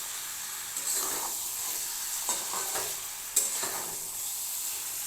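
Mutton curry with potatoes stirred and fried in a pan, a steady close sizzle with a few scraping spoon strokes over about five seconds, no talking.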